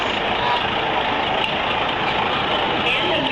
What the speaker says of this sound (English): One of our Long Beach Fire Museum trucks.